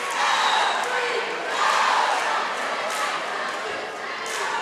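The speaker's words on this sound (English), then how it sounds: "Lively crowd here tonight, as we've said, packed house" A packed gym crowd at a high school basketball game during a holiday tournament keeps up a lively, swelling roar of voices and cheers, with occasional sharp thuds and squeaks ringing through the din.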